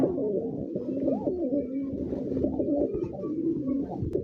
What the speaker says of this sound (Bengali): সুন্দর এক জোড়া কবুতর